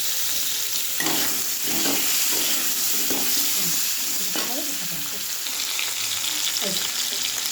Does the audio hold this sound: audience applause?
no